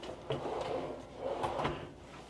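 A drawer in a 2026 Dynamax Oberon 24TB motorhome slides open and shut, two quiet bursts of sliding rumble with light clicks and thumps, close by and without speech.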